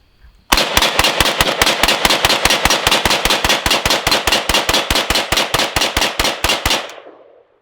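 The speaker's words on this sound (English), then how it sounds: "Okay, that was a one mag, all empty." An AK rifle fires a full magazine in one long burst of about thirty rapid, evenly spaced sharp reports, loud and close, ending abruptly with a short decay.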